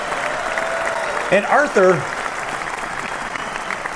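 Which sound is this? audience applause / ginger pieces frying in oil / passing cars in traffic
audience applause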